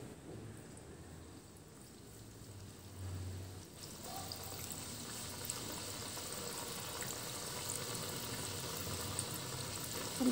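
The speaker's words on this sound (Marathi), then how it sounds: "आता आपण त्याला तेलामध्ये तळून घेऊया." Gulab jamun frying in oil over a low flame, a soft, steady bubbling sizzle that thickens slightly partway through and holds at a low, even level with no voices.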